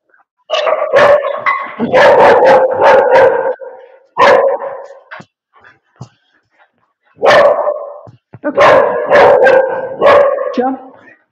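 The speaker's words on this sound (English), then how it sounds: "Jump, we should be less barky." Dog barking loudly in a home during a workout, bursts of repeated barks in clusters with short gaps, mixed with a person talking and yelling.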